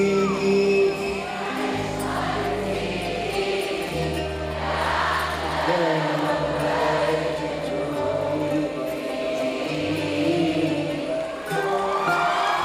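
Large concert crowd in Riyadh singing along to songs, a broad sustained mass of voices with musical tones underneath, distant and steady throughout.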